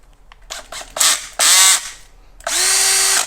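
Makita cordless drill whirring in three bursts, short and then longer spins with a rising then steady whine, close up with faint handling clicks between runs and no talk.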